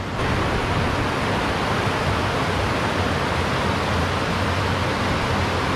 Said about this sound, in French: il y a une belle cascade ici